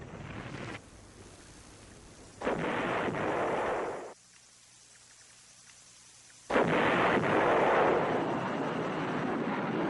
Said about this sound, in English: Furious American bombing and artillery fire drove off the assaults.